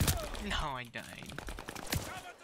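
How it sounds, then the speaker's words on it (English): Rapid gunfire in the shooter game Call of Duty: Vanguard on the Shipment map, sharp repeated bursts cutting through and alongside a speaking voice. "I literally spawned into somebody's gunfire."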